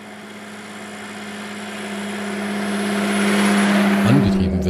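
A Sunbeam Speed 20 Monte Carlo's 2.9-litre inline six-cylinder engine idles smoothly with a steady hum that slowly grows louder, ending with a quick rev that lifts the pitch.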